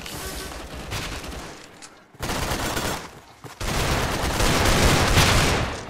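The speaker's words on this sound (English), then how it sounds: "Back to the nail gun, boys." Rapid gunfire from a nail gun in a Roblox gun game, loud dense bursts of shots filling the clip, broken by a brief near-silent gap, with heavier continuous fire toward the end.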